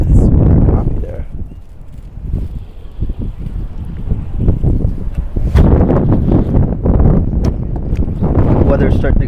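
Blustery winter wind buffets the microphone on Toronto's Woodbine Beach, heavy low rumbling gusts rising and falling throughout, loudest at the start and again in the second half.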